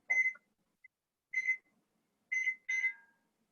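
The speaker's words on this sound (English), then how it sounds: "So I'm going to set a timer." Four short electronic beeps from a kitchen timer set while baking pita bread, evenly spaced and alone in otherwise silent surroundings, the last two close together.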